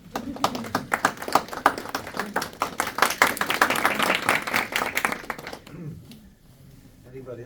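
An audience at a university lecture by a Hindu swami breaks into brisk, dense clapping that builds, then thins out and fades after about six seconds into a quieter room.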